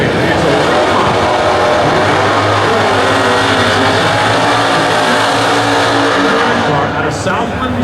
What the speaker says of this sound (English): forced induction machines like that Varsity Ford 5-liter Cobra Jet supercharged